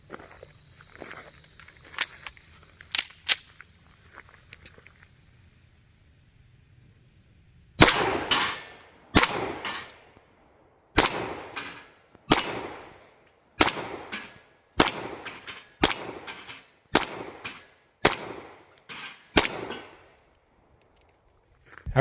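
A Dan Wesson TCP 9mm 1911 pistol fired in a steady string of about eleven sharp, loud shots roughly a second apart, after some quieter clicks and handling sounds.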